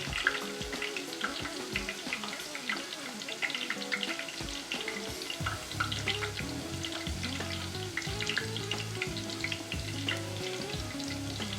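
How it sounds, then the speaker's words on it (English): Leeks frying in hot oil held around 130 degrees, a dense, steady sizzle and crackle running throughout with scattered bubbling pops, close and fairly loud, no talking. "our oil, which was set for 150, had gone down quite a bit"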